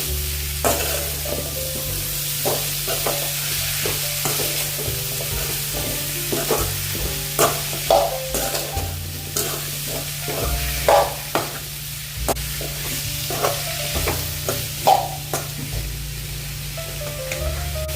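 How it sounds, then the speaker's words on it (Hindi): Radish pieces and green onion are stirred in a hot pan, a steady sizzle beneath repeated scraping strokes of a spoon coming every second or so, close and continuous. "मूली के टुकड़े डालेंगे और हरा प्याज भी डाल देंगे साथ में। अच्छे से मिक्स कर लेंगे।"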